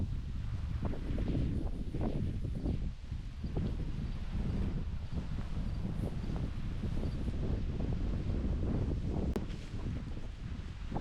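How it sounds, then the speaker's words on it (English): Strong, steady wind buffets the microphone outdoors at a wild camp during a dove hunt, a continuous roaring rush with rustling and no speech. "it's too windy"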